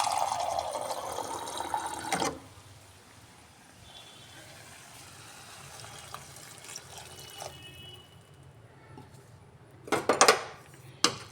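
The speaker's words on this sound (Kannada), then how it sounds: "ಇದಕ್ಕೆ ಟೊಮೆಟೊ ಗೊಜ್ಜಿಗೆ ಒಂಚೂರೇ ಚೂರು ನೀರು ಹಾಕ್ತೀನಿ." A small splash of water poured into tomato gojju in a pan, a brief watery pour followed by quiet kitchen sounds and a few clinks of utensils near the end.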